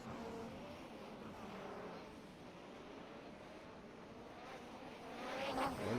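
A 1988 Japanese Grand Prix race car in a racing video game coming into the pits, its engine a steady moderate drone that swells louder toward the end.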